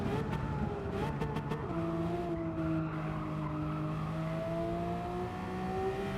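Race cars in Gran Turismo 7 running close together in a league race: steady high engine whine with shifting pitch and tire squeal, moderately loud and continuous, no talk.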